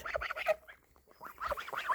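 Domestic geese give short, nasal honks in two close bursts separated by a brief pause, heard nearby and fairly clear with no talk over them.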